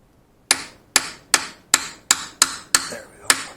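A hammer strikes a small chisel to bend back a lock washer on a Royal Enfield 650 sprocket nut: eight sharp metallic taps, close and evenly spaced, each ringing briefly.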